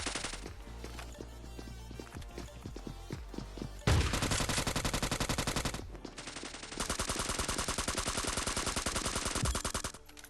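Scarfall 2.0 gunfight: rapid automatic gunfire in long sustained bursts with brief gaps, sharp and close, preceded by a few scattered single shots and thuds.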